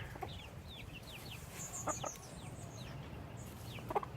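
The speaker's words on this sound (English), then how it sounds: "we got to do an update on the little chicks and their mothers. They're out free ranging right now." Free-ranging hens with their young chicks outdoors, giving soft scattered clucks and faint high peeps over a low steady background hum, with a few brief louder calls near the end.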